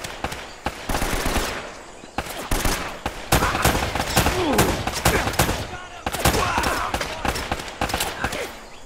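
Blind cover fire in the video game Uncharted: dense, rapid bursts of automatic gunfire crackle almost continuously at close range, with short gaps between volleys.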